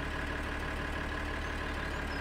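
A tractor engine in the video game Farming Simulator runs at a steady, even drone, a constant low rumble with no change in pitch or level throughout.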